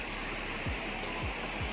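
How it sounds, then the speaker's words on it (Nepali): A swollen river in Kalimpong rushes in flood, a loud, continuous broadband roar heard close up, with a few low thumps beneath it. "खोला चाहिँ अहिले पनि ठुलो नै छ"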